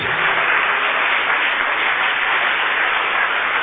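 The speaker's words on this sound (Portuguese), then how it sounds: "Enquanto mais pessoas estão vindo, vamos aplaudir o Senhor." A church congregation applauding during a service, a continuous, even wash of clapping from many hands, fairly loud and filling the room without a break.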